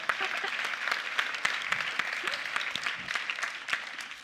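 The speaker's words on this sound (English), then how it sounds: "let's clap for that." Crowd applause at a tech conference keynote, many hands clapping in a dense, lively patter that holds steady, with a voice faintly present underneath.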